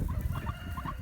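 Hens in a mixed flock, including a blue Andalusian, clucking in short soft bursts close by over low background noise.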